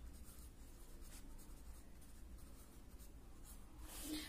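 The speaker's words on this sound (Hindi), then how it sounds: "तो यहाँ पर सबसे कम वाले में हम क्या लिख देंगे, अखिलेश।" Chalk or a marker writes a number on a classroom board in a quiet room, a faint, continuous scratchy rubbing with a few light strokes and a slightly louder stroke at the end.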